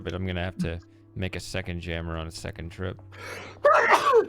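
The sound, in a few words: sneeze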